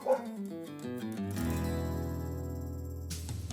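Sled dogs at a kennel near McMillan, Michigan, in winter: a few sharp, high yips and barks up close at first, giving way to a sustained, droning chorus of howling from the pack.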